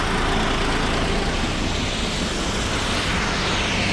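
Tractor driving past at a stone quarry, its engine a loud, steady mechanical drone under broad, noisy rumble throughout.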